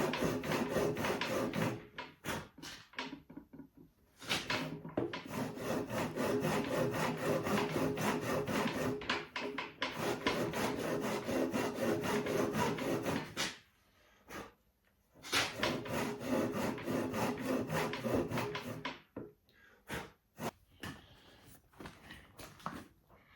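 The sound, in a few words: handsaw cutting through a wooden mortise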